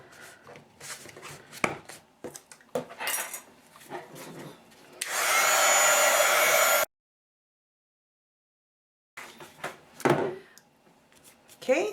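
A heat tool blows hot air onto a layered butterfly craft project in a steady whooshing rush lasting about two seconds, then cuts off abruptly into silence. Handling sounds and light talk come before it and after it.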